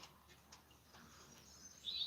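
Wild birds chirp outdoors by a backyard feeder stocked with oats and mixed seed, a few faint high calls rising over a low, steady outdoor hiss with no talk.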